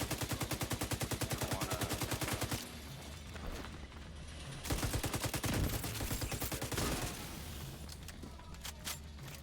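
Rapid gunfire in The Division 2, a fast, evenly spaced string of close shots for the opening seconds, then a pause and further bursts and single cracks, loud and unaccompanied by talk.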